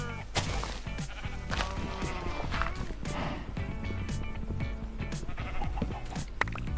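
Minecraft sheep bleat repeatedly in a one-block horror world, short wavering cries scattered among footsteps, clicks and other game sounds at low volume.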